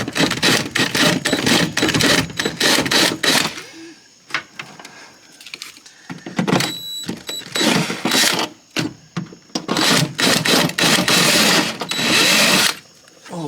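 Metal being deburred for a firewall reinforcement with a rotary power tool, loud bursts of high whining grinding in repeated short passes with brief pauses between them, close up.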